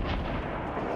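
A single sniper rifle shot in Fortnite booms loud and close, a broad blast and its brief rumbling tail filling the moment without any talk.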